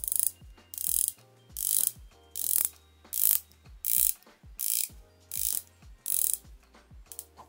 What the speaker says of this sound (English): The bezel action. Take a listen.